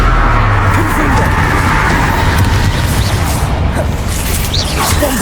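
Confringo fire-blast spell explosions in the video game Hogwarts Legacy, a dense loud rumbling barrage of booms and crackles running continuously without a break.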